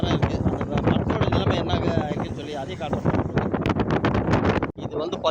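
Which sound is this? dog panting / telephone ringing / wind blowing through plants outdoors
wind blowing through plants outdoors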